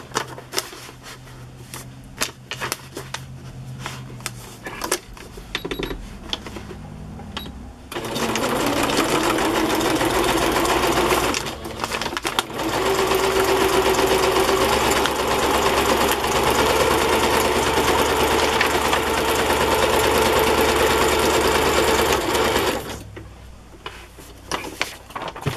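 A sewing machine stitching through journal pages, running loud and steady for about fifteen seconds with a brief pause partway, framed by quieter handling clatter before and after.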